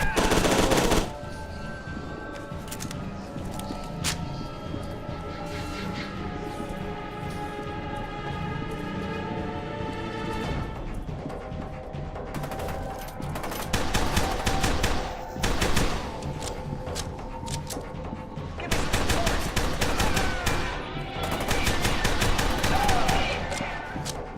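Pistol gunfire in F.E.A.R. 2: Project Origin, sharp shots in clusters and rapid volleys spread over the stretch, some loud bursts standing out over a steady game soundscape with talking in between.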